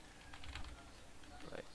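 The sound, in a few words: typing code on a computer keyboard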